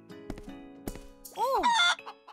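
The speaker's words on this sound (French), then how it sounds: "Je suis vraiment en train de courir après un poulet." Chicken clucking in the VR game Viva Project, a short rising-falling squawk near the end between scattered clicks and knocks, fairly close and moderately loud, with no talk over it.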